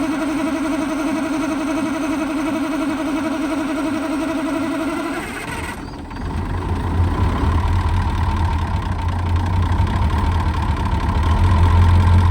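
A Cummins V8 diesel in a Ford truck runs steadily, then at about six seconds the note shifts into a heavier, deeper rumble that grows louder and fills the rest of the stretch, with no talking.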